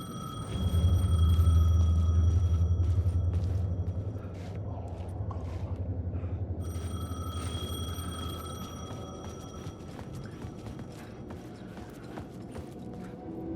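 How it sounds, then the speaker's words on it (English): Payphone ringing at late night in the video game Alan Wake 2: two separate rings of an electric bell over a low, rumbling ambience. "The payphone was ringing."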